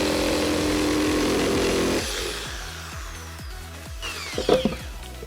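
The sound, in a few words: power saw cutting 12 mm plywood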